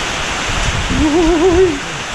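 Rain falls during Storm Molave as a steady, even hiss that fills the whole moment, with a brief wavering tone rising above it partway through.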